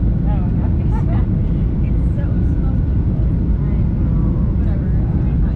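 Steady, loud airplane cabin drone with heavy low rumble as the plane descends toward landing in Montana, broken by a few faint voices in the background.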